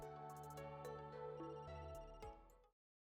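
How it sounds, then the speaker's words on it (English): A telephone rings in the video game Another Code Recollection, a steady electronic ringtone with regular repeating tones, close and clear, cutting off abruptly near the end. "That's the phone."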